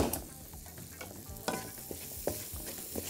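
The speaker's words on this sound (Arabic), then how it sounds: "اول حاجة هعملها هنزل بيه البصل والكرات مع بعض كده بالشكل ده" Chopped onions and leeks frying in a pan for a green curry with mixed vegetables, a steady close sizzle broken by repeated scrape-and-stir strokes of a utensil at irregular intervals.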